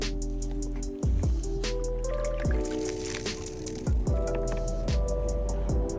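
Water draining from a removed custom headlight on a Scion FR-S, a run of wet squishing drips and trickles with several sharp splashy bursts spaced about a second apart, close up and alone.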